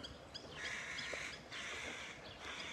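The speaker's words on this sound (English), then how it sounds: "These are crows." Crows give repeated harsh caws outdoors, several calls in quick bursts at moderate distance over steady ambient background, with other birds faintly around.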